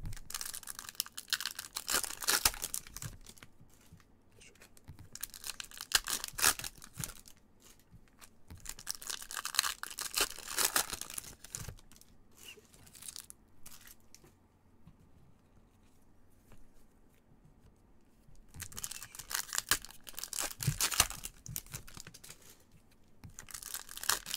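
Repeated bursts of crinkly foil tearing and rustling as Topps Chrome and Panini soccer trading card pack wrappers are ripped open, close and fairly quiet, separated by short pauses.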